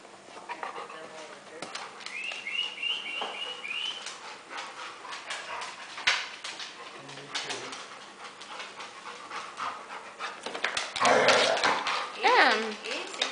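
Pet dogs playing indoors around a couch, panting and giving occasional short yaps and whimpers amid household noise, while people talk nearby throughout.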